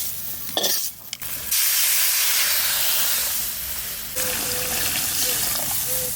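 Fish fry lightly in hot oil with a strong, steady hiss and sizzle, broken by a few brief clanks early on and a thin tonal squeal near the end.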